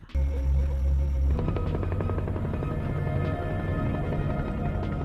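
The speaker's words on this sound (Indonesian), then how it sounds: "dia melihat sebuah helikopter melintas di atasnya" A helicopter's rotor thumps rhythmically and steadily, loud and close, over a layered dramatic soundtrack.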